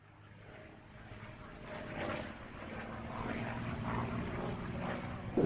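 An aircraft flies overhead in a WWII war film, its engine drone swelling gradually from faint to louder and building toward a peak at the end, with no speech over it.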